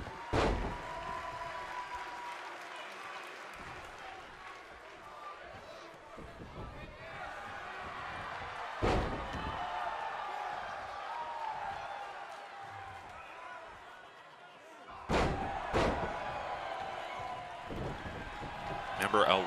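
Wrestlers trade strikes and crash into the ring corner, sharp thuds and slams landing sporadically over crowd noise and running commentary.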